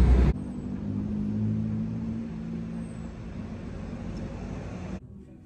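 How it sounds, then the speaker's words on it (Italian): Light traffic passes along a city street, a continuous distant whoosh of cars that swells and fades gently, heard alone without voices, then cuts off near the end. "Stanno passando anche meno macchine rispetto al solito"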